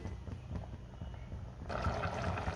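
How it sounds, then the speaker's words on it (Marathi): Liquid in a cooking pot coming up to a boil for a quick dinner recipe, soft bubbling and simmering that grows louder and fuller in the last second, with no voices. "छान उकळी आली"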